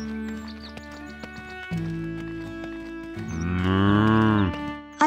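A cow moos in a children's story, one long deep low that swells and fades near the end, preceded by a softer rising tone over faint clip-clop hoofbeats and a light musical backing.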